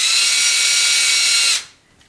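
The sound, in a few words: drill bit drilling out bearing seat in aluminium axle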